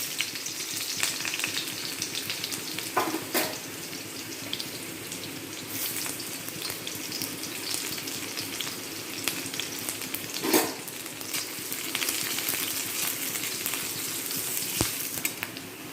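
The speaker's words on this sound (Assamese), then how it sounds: "এতিয়া তেলটো গৰম হৈছে, এতিয়া মই পিঁয়াজখিনি দি দিম।" Finely chopped onions sizzle steadily in hot oil in a home kitchen while a mustard-greens curry is prepared, with an even, continuous frying hiss and occasional faint clinks, no talking.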